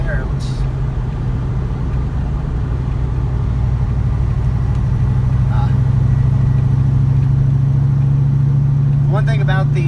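A cammed 2004 Mustang GT with a two-valve V8 cruises at about 3,000 RPM in fourth gear, giving a steady, loud, low engine drone with a choppy lope that holds throughout, under occasional faint road noise.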